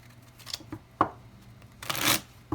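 Tarot cards being shuffled in short bursts, with soft taps and a longer riffling rush near the end, close and quiet.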